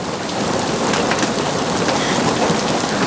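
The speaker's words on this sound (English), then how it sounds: "It has just started hailing." Hail falling at a campsite, a dense steady patter of pellets striking surfaces, loud and continuous with no voices.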